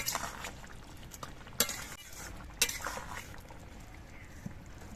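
Spoon stirring raw mustard oil into potato and ridge gourd posto in a pan, heard as faint scraping and a couple of light metallic clinks against the pan, close and quiet, with no talking.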